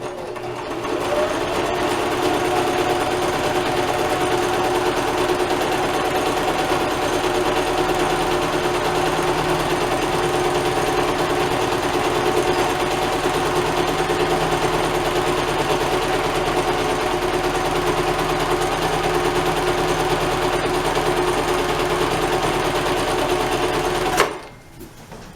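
A sewing machine runs steadily for about 24 seconds, stitching elastic into sweatpants with a continuous close whirring drone that stops abruptly near the end.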